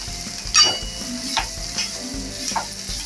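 Grated bitter gourd with fresh grated coconut being stirred in a pan, a constant close sizzle broken by a few sharp scraping strokes of the spatula.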